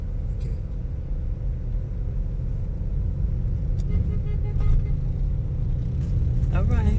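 Road traffic on a busy street in mainland Lagos, Nigeria, a continuous low rumble of passing cars and buses with a brief higher whine near the end, under people talking.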